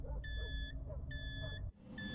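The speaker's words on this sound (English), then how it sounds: "What is the beeping?" Repeated electronic beeps in the horror video game Fears To Fathom: Carson House, two steady high tones recurring in a slow pattern over a low hum, briefly cut off near the end.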